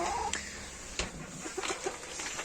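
Chinese chickens cluck softly in short, scattered calls, faint and close, with no talk over them.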